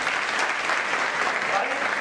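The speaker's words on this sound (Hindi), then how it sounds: "ताली मारो सर को।" An audience at a training event applauds with dense, steady clapping that fills the whole stretch evenly.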